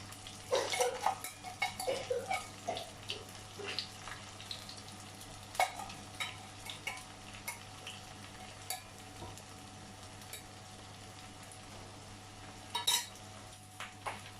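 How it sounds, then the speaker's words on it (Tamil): Gobi manchurian fries a second time in hot oil, giving a faint, steady crackle under a series of light metallic clinks and scrapes of a ladle in the pan. Brighter clinks cluster near the start and end. "இப்போ நம்ம இன்னொரு ஃப்ரை பண்ணுறதுக்கு ஏற்கனவே பொரிச்சு வச்சுருந்தேன் மறுபடியும் போட்டு எடுத்துக்கலாம்"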